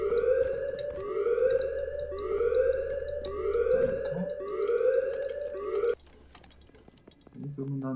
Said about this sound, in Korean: 자, 알람 끄고.